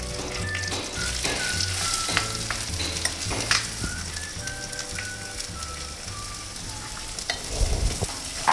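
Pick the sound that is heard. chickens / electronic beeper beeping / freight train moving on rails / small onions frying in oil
small onions frying in oil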